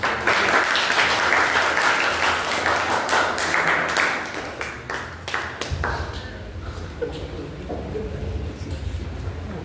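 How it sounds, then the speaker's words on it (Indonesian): Classroom applause from a group of students, a dense burst of clapping that stays loud for several seconds and then thins out and fades into quieter room noise. "kita beri tepuk tangan"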